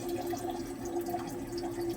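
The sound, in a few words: pouring 100 ml distilled water into acid reaction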